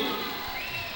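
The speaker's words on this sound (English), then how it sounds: "As you can hear the crowd in the background" A crowd murmuring and cheering in a school gym during player introductions at a girls basketball game, heard as a short, distant, even wash of noise.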